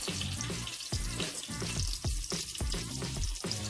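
Green chili, cumin and mustard seeds sizzling in hot oil for a dal khichdi tadka, a steady close crackle and hiss with bursts of spattering throughout and no voices.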